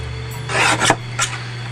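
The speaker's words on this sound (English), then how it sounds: "So I need to trim it down to 3 inches wide." A paper tag being trimmed to size for a crafting project, heard as a couple of short rasping cutting strokes close up over a steady low electrical hum, with no talking.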